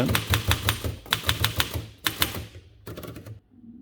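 A 1918 Remington Junior portable typewriter is typed on close up, giving a quick run of sharp mechanical key strikes in bursts, a short pause, then a few more clacks before stopping.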